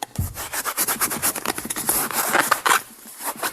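Two balloons rubbed briskly with fur in a static electricity demonstration, giving a loud, continuous scratchy rubbing with rapid strokes that stops just before the end.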